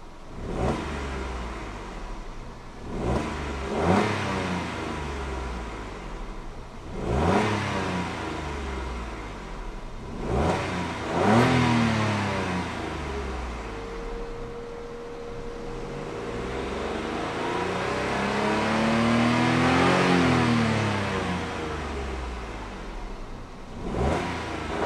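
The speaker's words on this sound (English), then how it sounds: "let's go ahead and see how she revs" A 2015 Toyota Aygo 1.0 VVT-i engine revs close by, several quick blips followed by longer rising and falling revs that hold high before settling back to idle.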